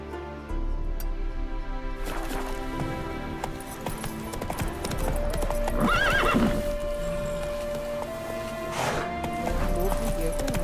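Roach, the horse in The Witcher 3, running in an open-world video game: steady hoofbeats with snorts and a whinny, set against game music and ambience, while someone talks over parts of it.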